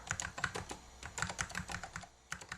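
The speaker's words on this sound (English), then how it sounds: "The keyboard is clunky, loud, and it sticks sometimes" Clattery keyboard typing, close up, with quick uneven bursts of keystrokes and brief pauses between them.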